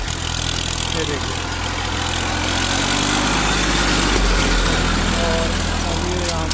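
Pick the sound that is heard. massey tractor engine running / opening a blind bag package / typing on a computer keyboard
massey tractor engine running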